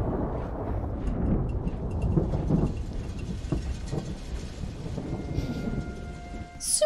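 Rain falls steadily with rolling thunder rumbling through a stormy battle scene in The Lord of the Rings: The Two Towers, a continuous dense wash of downpour with low booming peaks and no talk.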